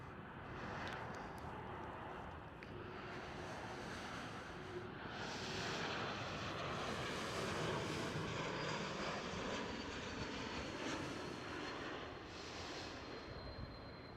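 A KLM Cityhopper Embraer E195-E2 jet touches down at Amsterdam Schiphol, a faint, distant engine roar that swells gently and then eases, with no one talking.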